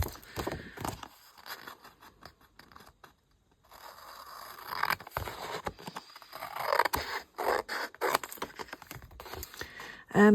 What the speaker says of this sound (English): I'm going to cut out this image